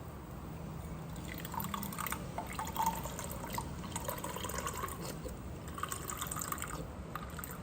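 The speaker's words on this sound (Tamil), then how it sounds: "அதில் அரை டம்ளர் பால் ஊற்றிக்கணும்." Milk trickles and drips steadily into a pan for Indian milk tea, a soft continuous liquid pour close by with no talking.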